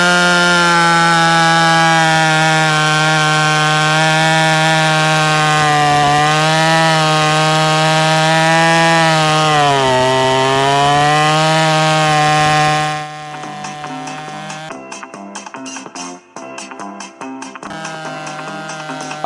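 A Stihl 026/MS260 chainsaw runs hard and close as it cuts firewood, its high engine whine sagging as the chain bites into the wood before dropping to a rougher idle, with no talking.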